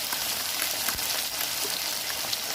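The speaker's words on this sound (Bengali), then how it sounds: "এখন ভালো করে সসটা মিক্স করে নিচ্ছি চিকেনটার সাথে।" Chicken Manchurian frying in a pan as tomato sauce is mixed into the chicken, giving a steady, close sizzle with dense crackle that runs unbroken throughout, no voices.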